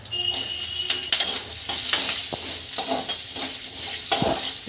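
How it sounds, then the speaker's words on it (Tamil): Vegetable and tuber pieces fry in hot oil in a pan for thuvaiyal, a steady close sizzle broken by scattered scraping and clinking stirs of a utensil against the pan. "இந்த காய், இந்த கிழங்கு நல்லா வறுத்துருச்சு."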